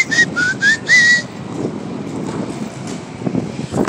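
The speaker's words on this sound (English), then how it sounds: "Still whistling while I work." A person whistles a short tune of about four rising and falling notes, loud and close, then stops, leaving faint outdoor wind and background rumble at a workplace.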